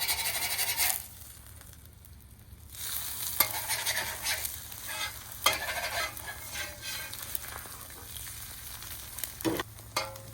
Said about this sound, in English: each time I'm putting eggs down, I'm definitely adding more butter or oil